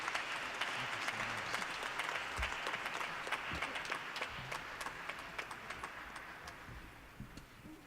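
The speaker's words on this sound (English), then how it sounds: "Let's have another round of applause for Jahnavi and all of the performers here." Audience applause for Diwali devotional performers at a chapel celebration, a dense sustained wash of clapping that runs steadily for the whole stretch and eases slightly toward the end.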